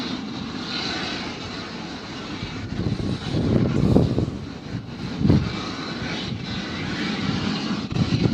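Spirit Airlines Airbus A320 airliner jet engines roar steadily at an airport, a broad continuous rumble that swells to its loudest midway through before easing back, heard from a distance with wind buffeting the microphone.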